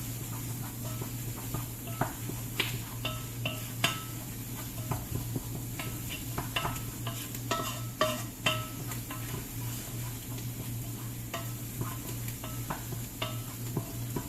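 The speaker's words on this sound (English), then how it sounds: "we're going to stir this all up. It's going to make a nice thick little roux. I'm using a wood spoon." A wooden spoon stirs a thick roux in a hot pot for chicken gnocchi soup, making continuous close scraping and soft knocks over a steady low sizzle.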